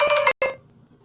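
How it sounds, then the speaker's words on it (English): A phone ringing during a digital drawing session: two short bursts of a bright, tonal electronic ring with a brief gap between them, fairly close and clear, then fading to quiet room noise. "you're hearing everything that happens with my phone ringing"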